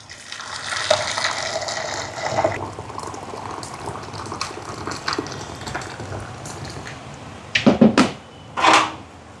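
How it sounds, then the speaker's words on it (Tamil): Hot water pours and splashes steadily into flour for several seconds while making puttu dough, then a few louder knocks and scrapes of utensils near the end. "தேவையான அளவுக்கு தண்ணி சுடு தண்ணி"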